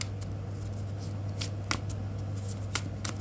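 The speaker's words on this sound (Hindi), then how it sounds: "last shuffle guys" Tarot cards being shuffled, heard as soft, scattered riffling bursts over a steady low hum, fairly close and with no voices.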